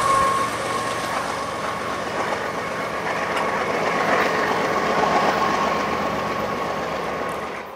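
A freight train passing through Ohio, a continuous rumbling roll of wagons with faint rhythmic rail clatter and engine drone, steady and fairly loud throughout, fading slightly at the end.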